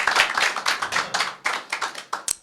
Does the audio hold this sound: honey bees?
no